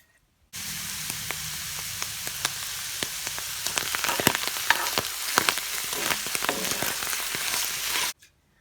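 Wild spring mushrooms sizzle and crackle steadily in a hot pan of butter, with frequent pops over a constant frying hiss, close and uninterrupted for several seconds.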